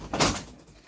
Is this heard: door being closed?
yes